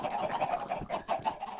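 Minecraft chickens cluck in a busy, overlapping cluster, a steady stream of short clucks and soft squawks at moderate loudness with no voices over them.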